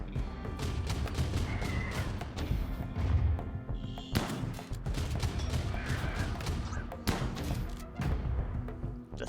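A thump cannon firing during a RimWorld raid, heavy thuds and crashing impacts spread across the clip over a busy bed of combat noise, loud and irregular with no clear talk.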